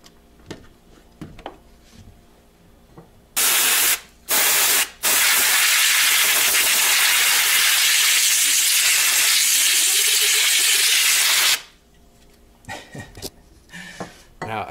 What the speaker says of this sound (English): I'm gonna spray it out and see how much dust it actually has.